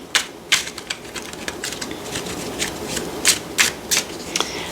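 Cards from a tarot-style deck are handled and shuffled up close, a series of sharp, irregular riffling snaps and flicks over a soft rustle, with no voice over them.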